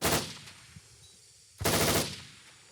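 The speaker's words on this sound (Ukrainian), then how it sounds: "Поки ми спілкуємося зі стрілками, поряд постійно чути більші калібри" Larger-caliber gunfire at an outdoor shooting range: two loud, sharp bursts separated by about a second and a half, each followed by a rolling echo.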